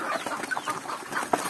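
A flock of chickens clucks and murmurs in a backyard garden plot where farm animals are kept, giving a busy, continuous bed of overlapping soft calls with a few sharper clucks standing out nearby.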